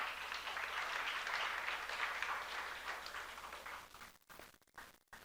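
A church congregation at a youth service breaks into sustained applause, a dense, even clapping that fills most of the clip and then thins out into scattered final claps.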